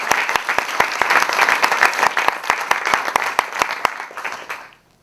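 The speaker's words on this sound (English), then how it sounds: "Round of applause for Michael, please." A large audience at a district attorney debate at Middlesex Community College applauds steadily, with sharp individual claps over a dense wash of clapping, near and loud, before it tapers off and fades out at the end.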